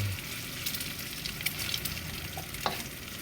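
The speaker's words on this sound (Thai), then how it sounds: "คั่วไข่ใส่กับหมูบด" Eggs stir-fried with minced pork in a hot pan: a steady, close sizzle with faint scraping and stirring, and no talk.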